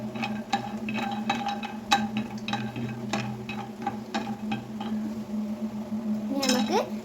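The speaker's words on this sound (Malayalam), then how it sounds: "ഇതുപോലെ ഒന്ന് അങ്ങോട്ട് വേഗം ഇളക്കി കൊടുക്കാം" Horlicks being stirred briskly in a pot, with steady clinks and scrapes of a utensil against the metal in a quick repeated rhythm, close and moderately loud over a low kitchen hum.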